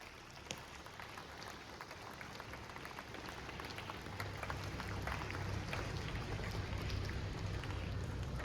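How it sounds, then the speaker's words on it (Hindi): Large audience applauding to welcome the teachers at a Loyola High School, Khunti event, a steady dense clapping wash that builds louder over the second half, with no talk. "इनके लिए एक बार आप लोग ताली बजाकर स्वागत करें।"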